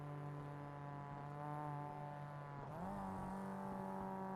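Porsche safety car at Mount Panorama revving hard, a loud sustained engine whine that holds steady and then drops and climbs again as it shifts, close by with no voices.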